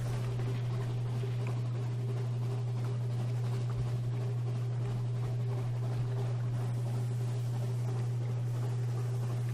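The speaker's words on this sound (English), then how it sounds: "Full power to the engines." Zubmarine engines running at full power in the game Sunless Sea, a constant deep droning hum with a steady low tone, loud and unchanging throughout, with no speech.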